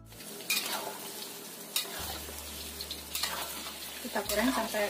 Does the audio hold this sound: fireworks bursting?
no